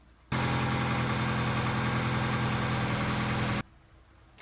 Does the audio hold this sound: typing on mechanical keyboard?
no